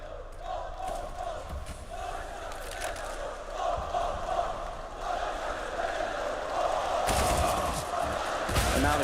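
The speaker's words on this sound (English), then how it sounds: "And now the crowd is here." Arena crowd roaring and cheering at a CS:GO esports quarter-final match on Nuke, a sustained swelling noise of many voices with cheers rising near the end.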